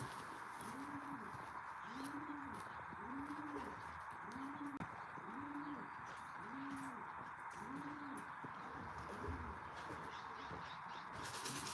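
Loft pigeons flying near a pigeon loft, with soft repeated cooing running steadily through the scene over a broad hiss of outdoor noise, and a few faint calls from other birds.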